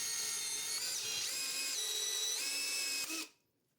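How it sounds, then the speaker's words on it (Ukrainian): A power drill whines at high speed, its pitch shifting a few times before it winds down and stops, leaving silence. "Зараз перемикнуся на свердло"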